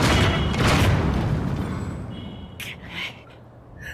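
A bomb explodes in the video game The Legend of Zelda: Tears of the Kingdom, giving a loud, close boom that rumbles and fades, followed by a few small scattered pops and clicks.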